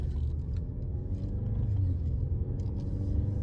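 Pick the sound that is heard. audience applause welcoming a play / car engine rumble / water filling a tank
car engine rumble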